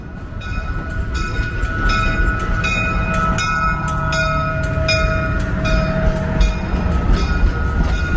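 A Budd RDC diesel rail car arrives at Reading Outer Station, engine droning with a sustained horn-like tone and rhythmic clicks of wheels over rail joints.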